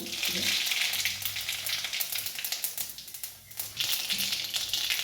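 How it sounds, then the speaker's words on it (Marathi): Cumin and mustard seeds spluttering in hot oil in a heated kadai, a dense, steady close-up crackle and sizzle that briefly thins out before surging back. "तेल तापलेलं आहे, त्याच्यामध्ये जिरे आणि मोहरी टाकणार."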